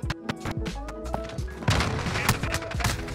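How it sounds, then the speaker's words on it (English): Weapon reload in Modern Warfare, a multiplayer shooter: quick metallic clicks and clacks of handling the gun, mixed with nearby gunfire thuds and game background noise, no talking. "I have to reload."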